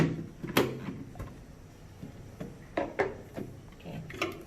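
Packaging around a KitchenAid 14-cup food processor work bowl is handled and opened, with scattered close knocks, rustles and plastic clunks at irregular intervals.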